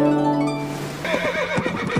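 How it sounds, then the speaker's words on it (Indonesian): A horse whinnies with a long, wavering call, followed by snorting and shuffling sounds up close. "itu suara kuda"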